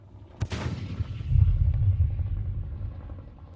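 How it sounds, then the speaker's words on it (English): A cartoon explosion from an animation: a sharp blast followed by a deep, rolling rumble that swells and slowly fades, loud and close, with no voices. "Explosion."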